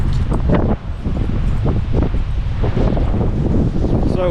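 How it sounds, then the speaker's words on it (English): Strong wind buffeting the microphone at a stormy beach where big waves are rolling in, a loud, constant low roar with gusty surges and rustle, no voices over it. "I don't know if you can hear in the background the wind"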